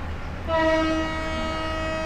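A Chattogram University shuttle train sounds a loud, sustained horn as it pulls away from Jhautala station, with a low rumble underneath before the horn begins.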